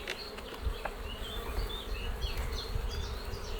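Honeybees swarm over an opened spring hive during an inspection after smoking, a dense, steady buzz close by with individual bees droning past now and then.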